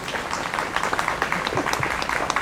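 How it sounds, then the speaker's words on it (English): A short burst of scattered clapping from a modest crowd, moderately distant and fairly soft, without voices. "So give yourselves a round of applause."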